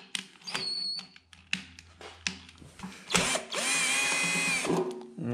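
A power drill backs screws out of the seat of a Yamaha Super Ténéré 1200 motorcycle. Short clicks and brief bursts come first, then a loud, sustained whining spin close to the mic, with no talking.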